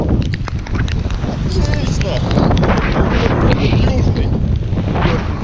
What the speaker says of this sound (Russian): Теперь ветер сменился, стал западным, но очень сильным.